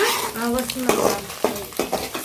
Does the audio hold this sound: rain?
no